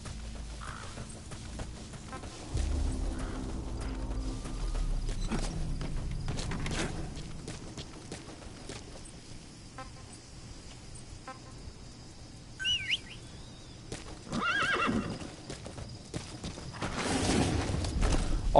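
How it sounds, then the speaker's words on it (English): Horse hooves clip-clopping in the Metal Gear Solid V video game, intermittent steps amid game ambience with bird calls and chirps, fairly quiet; no clear neigh stands out. "let's get that horse back"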